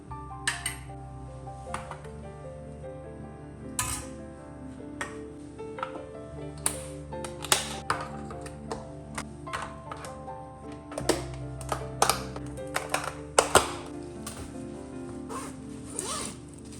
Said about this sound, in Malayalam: ഇനിയിപ്പോൾ പാത്രങ്ങളൊക്കെ ഒന്ന് കുറച്ച് കഴുകാറുണ്ട്.